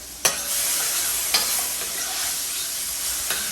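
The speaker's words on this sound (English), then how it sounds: "And you just want to let this garlic darken just a little bit." Garlic sizzles steadily in a pan over medium heat, a continuous bright frying hiss with a few sharp stirring clicks near the start, middle and end.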